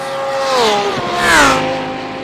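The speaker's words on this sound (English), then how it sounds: "I love the way these cars sound. Lambo sounds so good, Mike." A Lamborghini race car engine roars in a racing video game, a loud sustained rising and falling whine as it revs through gears, with a faint tire squeal, no voices.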